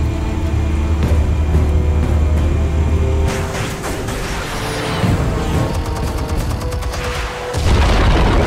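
Explosives detonate in the Batman Telltale Series game, a loud booming blast with rumbling debris and crackling bursts over a dense, continuous game soundscape, ending in a heavy low thump.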